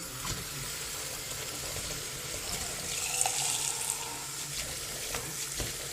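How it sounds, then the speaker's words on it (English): Medium hot tap water runs steadily into a jar, a continuous close splashing rush with no talk. "we're going to fill it with medium hot water"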